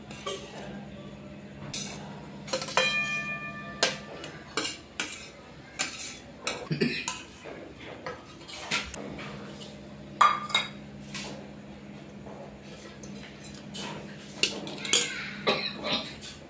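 Carrots, paneer, capsicum and cabbage being mixed in a bowl for a street-style veg paneer momo filling: a spoon clinks and scrapes against the dish in irregular, fairly close bursts, with no talking.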